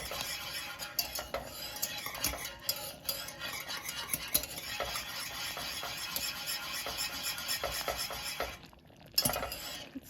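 Polenta being stirred in a pot, a quiet, continuous scraping and sloshing of a spoon working through thick cornmeal, with light clinks against the pot and a soft simmering sizzle underneath.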